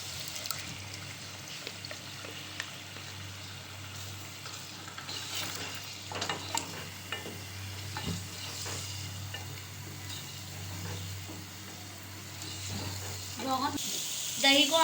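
Spiced masala with ground onion for an egg curry sizzles and fries in a pan while a spoon stirs and scrapes intermittently, the sizzle steady and moderately quiet.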